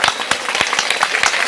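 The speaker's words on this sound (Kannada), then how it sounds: "ತಮ್ಮ ನೃತ್ಯವನ್ನ ಪ್ರದರ್ಶನ ಮಾಡಿರ್ತಕ್ಕಂತಹ ವಿದ್ಯಾರ್ಥಿನಿಯರಿಗೆ ಚಪ್ಪಾಳೆ ಇಷ್ಟಿಷ್ಟು ಬರಬಾರ್ದು" A school audience claps for girl students after their dance at a Children's Day parent-teacher meeting, with scattered, uneven claps at close range and no speech.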